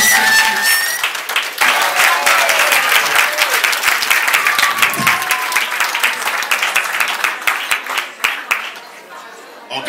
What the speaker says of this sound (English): Let's celebrate him with another hand of applause again.